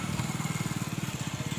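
A motorcycle engine at a local market where chickens are sold, running with a steady rapid low throb close by, loud and continuous throughout.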